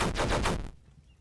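A bolt gun fires in the video game Dragon's Dogma Online, a quick loud string of rapid shots lasting under a second before cutting to quiet.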